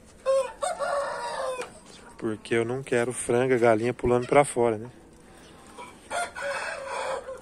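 A rooster crows loudly in the middle, a long wavering call, while a person talks before and after it.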